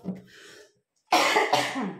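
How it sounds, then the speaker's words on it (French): A woman coughing close up, one short cough and a brief throat sound, then a pause followed by two harsher, louder coughs in quick succession. "Je suis désolée, je tousse encore et encore."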